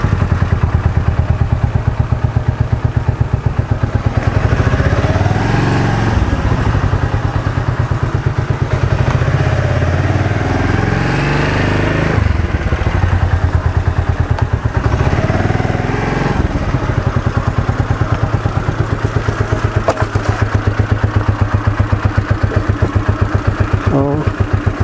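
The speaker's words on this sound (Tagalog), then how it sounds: "Magmotor lang tayo" A motorcycle engine drones continuously while riding near Monsayon cemetery in Tarlac, a loud, steady mid-pitched rumble with bumps and thuds, and voices talking over it.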